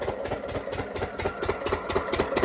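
A diesel engine pumping water for paddy fields idles steadily with a rhythmic low knocking chug, continuous and fairly close.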